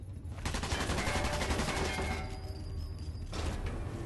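Gunfire in the co-op video game Sniper Elite 4, a burst of rapid shots and mechanical clatter over about three seconds, then a pause and another burst, no talking.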